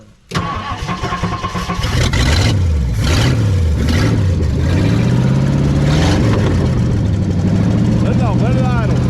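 A 1959 Ford Galaxie's 352 V8 engine cranks briefly and fires up, then settles into a loud, rough idle with throttle blips rising and falling; people talk nearby.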